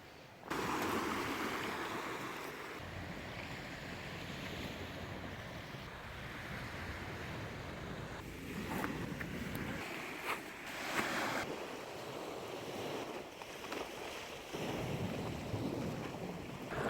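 North Sea waves in northern Germany wash steadily onto the shore in a broad, continuous surf roar, close and fairly loud, with gusts of wind buffeting the microphone throughout.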